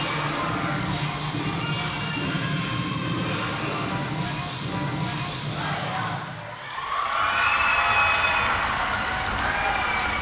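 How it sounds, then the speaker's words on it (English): A crowd cheers and shouts at a competitive cheer semifinal, a sustained broad roar that dips briefly then swells louder again, with some higher shrill voices mixed in. "the crowd is loving every minute of it"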